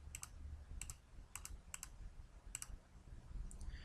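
Typing on a computer keyboard at a point-of-sale stock screen, quick paired keystroke clicks in short irregular bursts, close but faint.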